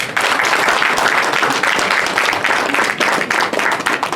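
Audience applause at a political party conference in Côte d'Ivoire, dense, loud clapping from a crowd that rises quickly and holds steady for several seconds.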